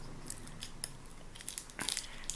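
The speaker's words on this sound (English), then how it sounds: "I don't want to just push the scissors up into the tape." Scissors snip carefully through tape on Pokemon card packaging, a few faint crisp cuts in a quiet room.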